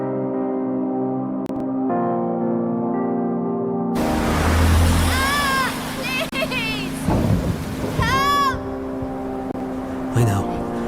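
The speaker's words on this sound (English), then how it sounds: "A major storm's heading for the coast." A major storm hits a coastal lighthouse in a video game trailer: heavy rain hisses and thunder rumbles loudly, mixed with music and voices.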